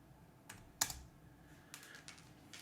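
Sparse keystrokes on a computer keyboard while entering a command: a few isolated clicks rather than a steady run, the sharpest one early, then a quick cluster of taps near the end.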